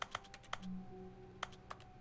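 Keyboard clicking from pressing the A button in The Stanley Parable video game: a handful of crisp separate taps, two grouped early and two more after a short gap, over a low background hum.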